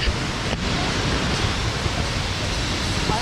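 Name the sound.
Neer waterfall in Rishikesh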